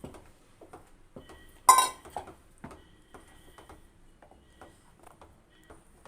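A ceramic or steel bowl is rinsed and handled while making ragi koozh, with scattered light clinks and knocks, one louder splash-like clatter partway through, quiet water and handling noises around it.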